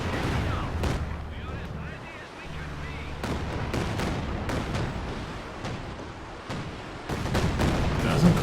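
A Calliope rocket artillery barrage in the Company of Heroes 2 strategy game, with rapid overlapping booms and crackling impacts rolling on continuously while a commentator talks over the battle.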